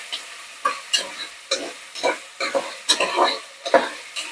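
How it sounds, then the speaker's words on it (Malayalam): Vegetables and tomato stir-fried on high flame for khichdi, with a gentle sizzle under repeated scraping and stirring strokes that come in irregular bursts, close and fairly quiet. "ഇപ്പൊ ഇത് കുറച്ച് ഞാൻ രണ്ടഞ്ച് മിനിറ്റ് ഫ്രൈ ചെയ്യും അങ്ങ് ഹൈ ഫ്ലെയിമിൽ വെച്ചിട്ട്"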